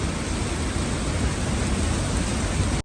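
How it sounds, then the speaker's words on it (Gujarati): Heavy rain pouring down, a dense, continuous roaring hiss that stays loud and even throughout with no voices. "જોરદાર વરસાદ થયો"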